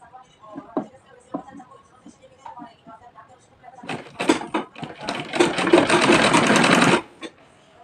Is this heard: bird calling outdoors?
no